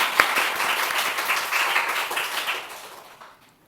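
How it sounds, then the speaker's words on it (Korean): Inside a church during a Sunday afternoon worship service, the congregation bursts into warm applause for a young performer. The clapping is lively and full at first, then thins and fades away over a few seconds. "우리 창훈이 위해서 우리 박수 한번 합시다"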